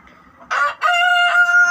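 A Tiger breed rooster crows loud and close in one full, drawn-out call, preceded by a short hen cluck and a brief squawk, with no voices.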